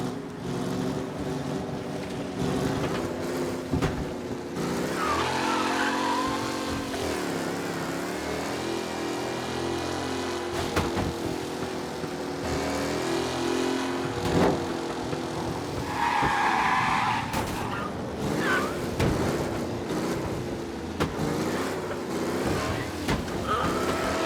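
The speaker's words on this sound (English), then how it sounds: "Be alert for a race car out on the roads tonight." A race car drives on night-time roads in Mafia: Definitive Edition, with engine revving rising and falling, bursts of tire skidding and squeal, and brief voices in places over about twenty-four seconds.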